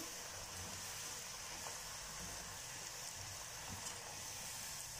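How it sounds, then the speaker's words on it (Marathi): Large-cut french fries frying in batches in hot oil give off a soft, steady sizzle with faint crackles, quiet and continuous from start to finish. "मी थोडे थोडे करून तळायचे आता"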